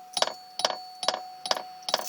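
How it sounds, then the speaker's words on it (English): A Cadillac Eldorado's interior warning chime dings five times in steady succession about every 0.43 seconds, each a bright ringing strike that decays quickly, clear and close inside the car with no talk. "The funny thing about this car is that dinger, it's actually a little chime inside going like that."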